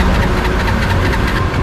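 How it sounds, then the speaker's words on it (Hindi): A Honda Hornet 2.0 motorcycle's electric starter cranks with an empty fuel tank, a loud, close, rapid rhythmic churning that never catches into a running engine. "आपको दिखाने के लिए मैं इसमें दो बार सेल्फ ले रहा हूँ"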